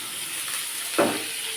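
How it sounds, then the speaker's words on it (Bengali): Chopped onion and green chilli fry in a pan, a steady bright hiss of sizzling oil throughout, with a brief louder crackle and spatter partway through. "ভালো করে পেঁয়াজটাকে লাল লাল করে কষিয়ে নেব"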